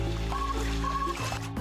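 Water poured into a stretchy rubber dinosaur toy, a short steady trickle and gurgle with a rising tone as it fills, close and alone.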